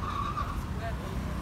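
An Audi R8 with a V10 engine on a busy city avenue, a loud engine roar with a tire-squeal edge across the brief moment, voices talking over it.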